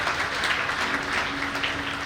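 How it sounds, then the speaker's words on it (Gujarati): Loud, steady applause from an audience at a community get-together in Rajkot, a dense wash of clapping that holds for the whole stretch with no pauses and no talk over it. "તેમને પણ આપણે યાદ કરીએ અને જોરદાર તાળીઓથી વધાવીએ"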